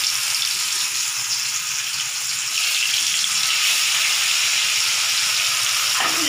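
Rohu fish pieces sizzle steadily in hot oil over lowered heat, a dense continuous frying hiss that holds close and loud throughout with no voices.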